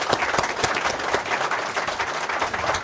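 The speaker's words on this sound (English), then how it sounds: "Can we give them a round of applause?" Audience applause closing a panel discussion on the Iran protests, a steady dense clapping from a crowd throughout, fairly loud and close with no talking.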